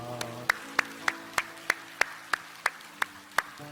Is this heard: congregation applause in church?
yes